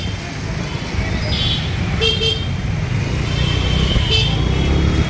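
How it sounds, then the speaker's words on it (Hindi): Dense city traffic on the old city roads from Nampally to Charminar in Hyderabad during Ramazan: a steady rumble of cars and motorbikes with several short horn toots scattered through it. "हमेशा यहाँ पे ट्रैफिक है"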